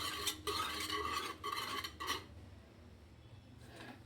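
Soaked rice batter for kurdai is beaten vigorously in a vessel, giving bursts of rapid wet slapping and scraping, with brief pauses between rounds and a final short burst after a quieter stretch.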